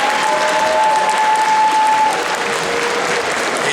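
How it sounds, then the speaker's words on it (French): Audience applause at a cosplay contest and costume parade, a steady, loud wash of clapping from a large crowd that holds throughout, with a faint tonal whistle running over the first half. "Donc j'aimerais qu'on les applaudisse"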